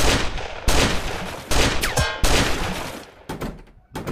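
Game gunfire in the Roblox survival puzzle obby Last Order: several sharp, loud shots in quick bursts with short gaps between them, close and punchy, with a brief metallic ring after one shot and no voices.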